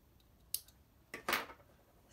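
Scissors snip through yarn while a pom-pom is being made: a quiet, close sharp snip, then a couple of soft, brief cuts a moment later, alone without speech.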